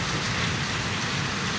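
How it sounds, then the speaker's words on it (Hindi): Steady rain falling outdoors during a downpour, a continuous dense hiss of drops on surfaces with no pauses, fairly loud and close throughout, with no voices. "तो अभी इस वक्त यानी कि बिल्कुल ही बारिश है"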